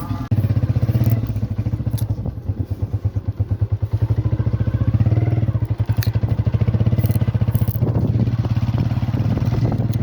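A scooter engine putters steadily up close with a fast, even pulse. A few clunks and scrapes sound briefly over it, and there is a little background noise.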